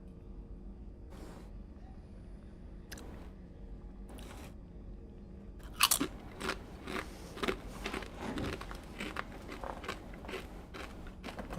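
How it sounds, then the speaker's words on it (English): Potato chips crunch close to the microphone during a Mass Effect 2 gaming session, with repeated crisp, irregular bites and chewing crackles, quiet at first and then denser, over low background hum. "is the chip crunching loud?"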